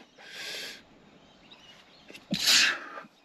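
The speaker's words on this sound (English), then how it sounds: "I need to sneeze, mate." A man sneezes once close by outdoors, a brief breathy intake followed by a sharp hissing burst, with quiet natural ambience around it.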